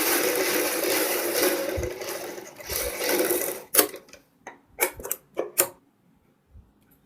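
A sewing machine stitches a collar seam on a Punjabi suit kurti, whirring loudly and steadily for a few seconds before stopping, followed by several sharp handling clicks and then near silence.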